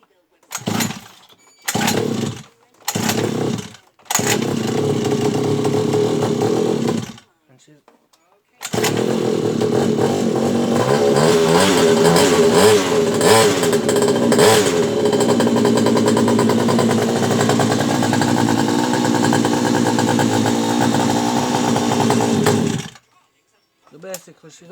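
A mini ATV has its engine pull-started, with several short bursts of cranking. It catches and runs, a close, loud, buzzing small engine idling and revving for about fifteen seconds before shutting off.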